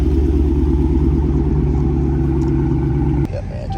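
A Hellcat Charger with a mid muffler delete idles loud and close, a deep throbbing V8 burble with steady pulsing lows that drops in level near the end.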